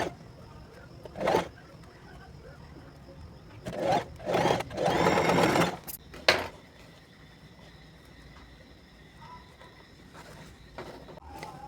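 A sewing machine stitches puff sleeves in short bursts, a few close whirring runs of rapid stitching separated by quiet pauses, the longest lasting about two seconds, with light handling noises between.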